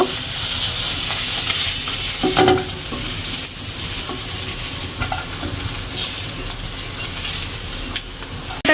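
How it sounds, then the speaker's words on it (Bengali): Curry spices stirred in a pan for a Bengali curry, sizzling steadily throughout with the scrape and shuffle of stirring, close and fairly loud, with no talk over it. "রান্না করার জন্য সব কিছু দিয়ে নিচ্ছি, ভালো করে নাড়ে করে কষিয়ে নেব।"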